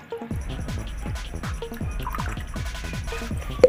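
Water trickles and drips into a small container holding a silver recovery solution made from scrap LED bulbs, a quick run of close, irregular splashy drops.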